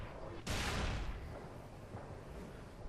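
One loud sharp gunshot or blast rings out in the Halo 3 campaign, followed by a decaying rumble and fainter shots further off.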